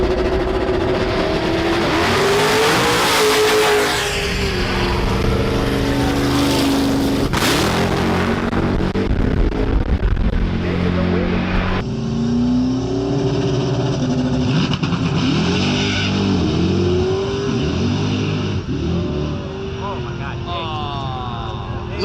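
A loud Camaro race car engine revs and roars at a drag-style event, rising and falling in pitch over a steady, dense crowd and engine rumble.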